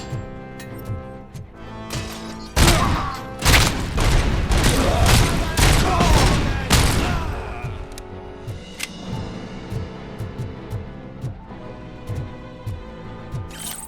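Gunfire in the video game Robocop: Rogue City, a dense burst of loud rapid shots and booms lasting several seconds, then fading to scattered lighter shots and game ambience.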